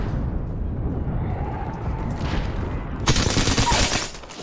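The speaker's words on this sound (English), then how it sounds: "Enemies are shooting at me." Gunfire rattles through an Apex Legends match, with rapid automatic bursts over a dense rumbling background, growing sharper and louder toward the end before tapering off.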